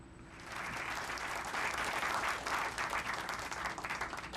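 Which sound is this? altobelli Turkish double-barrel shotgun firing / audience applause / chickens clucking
audience applause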